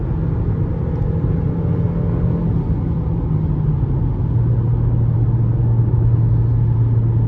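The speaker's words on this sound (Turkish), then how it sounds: "Gaza tam oturduğum zaman birazcık düşünüyor. Ardından bu şekilde hızlanıyor." A Mercedes-Benz GLB200 4MATIC with its 1.33-litre, 163 hp engine pulls hard at full throttle, a steady droning engine note that climbs in pitch partway through under constant road and cabin rumble.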